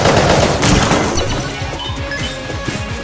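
Carbine gunfire in the video game Enter the Gungeon: a loud, dense volley of rapid crashing shots that thins into a quicker rattle of separate reports over about three seconds.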